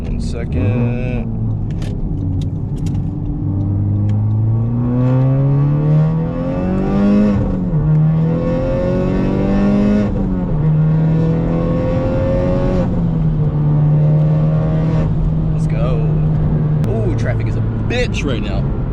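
A car engine revs up hard and holds a rising, strained drone through the gears while pulling out to pass another vehicle on the road, loud and close from inside the cabin, with a person talking over it.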